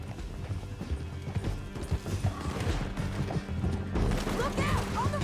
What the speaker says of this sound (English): Get him on your horse. Down the canyon. Let's ride!